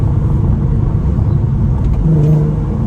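Loud, deep engine rumble from a VW Golf Mk5 R32 3.2-litre with a Milltek sports exhaust, steady and throaty with a slight rise in revs partway through, heard close up.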